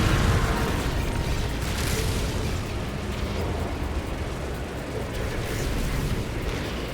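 Anti-freighter cannon fire and explosions in the No Man's Sky space combat game, a dense, continuous roar of booming blasts and rumbling bursts that stays loud throughout with no voice over it.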